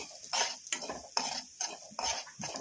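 Semolina being roasted for kheer is stirred in a pan over low heat, with about six rhythmic scraping strokes, each a soft gritty swish, close and fairly quiet.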